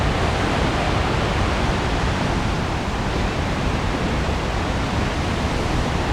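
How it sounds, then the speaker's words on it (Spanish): Sea waves crash against the rocks at Touriñán on the Galician coast, a steady, dense roar of surf with no break and no voices. "se tiene una idea de la fuerza del mar al ver las olas estrellarse contra las rocas"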